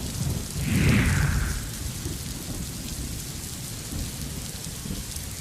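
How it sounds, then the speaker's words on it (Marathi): Heavy rain falls steadily in Maval, Maharashtra, with a deep rolling thunder rumble near the start, then a constant hiss of rain on surfaces with no voices. "मावळमध्ये सुद्धा मेघगर्जनेसह पाऊस झालाय"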